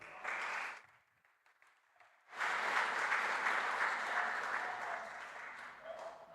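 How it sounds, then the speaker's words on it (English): An audience at a games conference panel bursts into applause, a short round that fades, then a second, fuller wave of clapping that stays steady to the end. "Can we have another round of applause, Samuel?"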